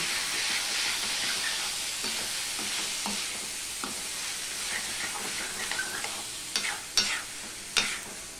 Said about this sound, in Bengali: এবার সম্পূর্ণটা আমি ভালো করে মিশিয়ে দিচ্ছি।